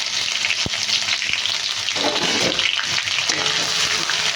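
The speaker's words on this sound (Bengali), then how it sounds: "এবার এই তেলেতেই ওই যে তেজপাতা আর শুকনো লঙ্কাটা ফোড়ন দিয়ে দেবো" Bay leaf and dried red chilli drop into hot oil for tempering, setting off a loud, dense, continuous sizzle close up with a couple of sharp taps from a utensil against the pan.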